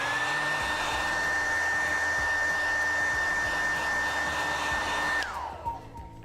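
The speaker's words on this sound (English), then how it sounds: "we're going to do now is dry the area with a hairdryer" A hair dryer drying paint on a leather repair blows loudly and steadily with a whining motor tone, then switches off and winds down, leaving faint room noise.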